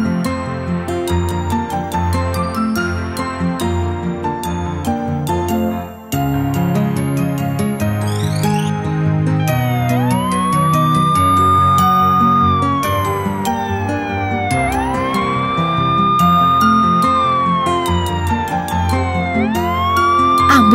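Cartoon ambulance from a children's toy-vehicle show, a wailing siren sweeping up and down in repeated cycles over bright, busy background music, loud and sustained.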